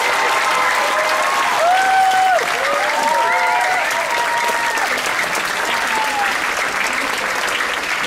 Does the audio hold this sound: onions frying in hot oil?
no